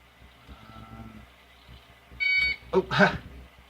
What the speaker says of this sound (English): It always shocks me when I get to the end and it beeps at me